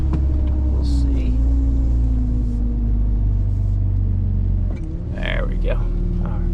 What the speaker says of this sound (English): these dual-wheeled trucks are not always easy to get around in